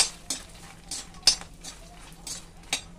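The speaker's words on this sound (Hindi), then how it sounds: "घी गरम करेंगे और इसमें डाल देंगे मखाने।" Makhana (fox nuts) being fried and stirred in ghee: soft pan sizzle under a handful of sharp spoon clinks and scrapes against the pan, spaced irregularly, with no talk.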